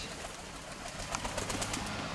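Grey pigeons cooing close by amid a noisy outdoor background, a few soft, low coos and bursts of rustling in the latter half of the short stretch.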